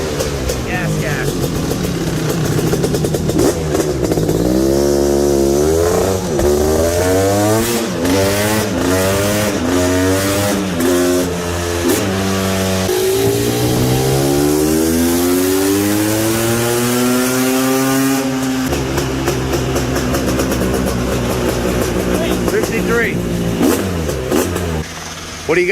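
A 2023 GasGas 500 BRC motorcycle engine revs hard and close, climbing and falling through repeated throttle blips and long sweeping pulls, loud and rasping throughout.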